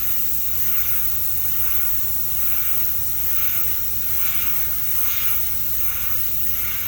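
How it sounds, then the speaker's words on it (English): Spray paint hisses from an aerosol can in several long, light bursts that swell and fade, close and fairly loud, applied along the top edge of a Chevelle part. "hold it with my fingers and spray down and just go really lightly over this top edge here"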